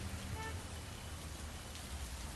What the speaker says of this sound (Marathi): काल मध्यरात्री सुद्धा प्रचंड प्रमाणात पाऊस झाला आणि तसाच पाऊस अजून सुद्धा सुरू आहे.